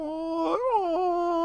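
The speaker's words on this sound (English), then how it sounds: "Oh, that's a dog." A dog in a video game gives a drawn-out whimpering whine, a tonal moan that rises and bends in pitch for just over a second, near and clear with no talk over it.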